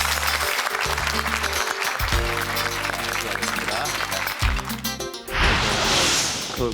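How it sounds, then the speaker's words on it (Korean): Studio audience on a Korean TV quiz show breaks into a brief burst of applause near the end, following loud musical stings and a voice. "큰 박수 한번 부탁드리겠습니다"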